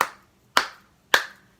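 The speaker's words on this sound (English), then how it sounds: "And we're going to do some clapping." Three sharp, evenly spaced hand claps at a children's storytime hello song, close and crisp with quick decay and quiet gaps between each.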